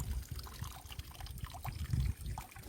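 Water trickles and drips out of a fishing net full of fresh prawns pulled from a Sundarbans forest creek, a faint, continuous splashy dribble close by.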